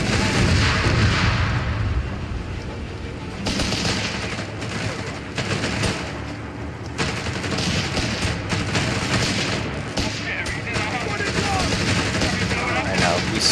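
Grenade blasts and gunfire in the Company of Heroes 3 video game, a dense, loud barrage of rattling shots and booms that stays constant throughout, with no break.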